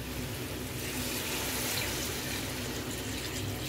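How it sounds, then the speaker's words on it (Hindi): Water pours steadily into a pot holding one kilogram of rice for chicken pulao, about two bowls' worth, a continuous rushing flow heard alone and close for the whole stretch. "अभी पानी शामिल करेंगे इसमें।"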